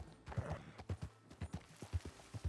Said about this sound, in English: Oh, there's your horse.